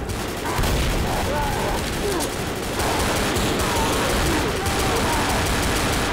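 Dense, sustained gunfire in Left 4 Dead as players shoot at a Tank, rapid overlapping shots and bursts filling the whole stretch at close range, with voices speaking over the barrage.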